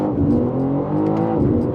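BMW M3 Competition G80 in four-wheel-drive sport mode under full throttle, a steady dense engine roar heard from inside the car, loud and continuous with no talk.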